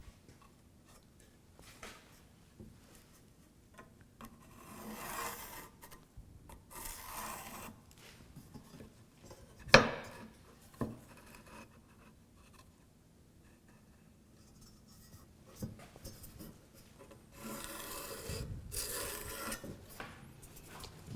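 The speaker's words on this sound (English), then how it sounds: "I'm just going to use a hand plane, and I'm going to shave down to that line" A hand plane shaves a wooden board down to a marked line for a hall table, heard as faint, intermittent rasping strokes in scattered passes, close and quiet with no talk.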